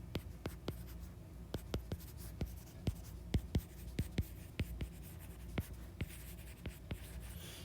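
Marker or chalk tapping and scratching on a board during a physics lecture on conservation of energy, a run of sharp, fairly faint clicks and strokes in an irregular rhythm over quiet room tone.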